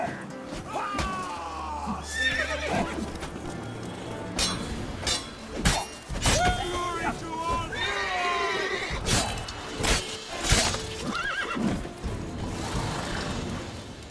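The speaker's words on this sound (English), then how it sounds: "Whoa there, Roach" A horse in a video game neighs and is reined to a stop, with a whinny among scattered clinks, thuds and game effects over a steady background.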